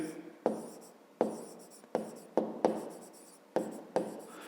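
Pen writing a maths solution by hand on paper: a series of close scratchy strokes in quick bursts separated by short pauses, with no speech.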